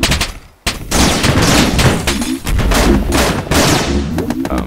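Mortars fire in the Islands of War video game as a rapid string of loud, overlapping blasts and booms, hammering on almost without pause after a brief silent gap.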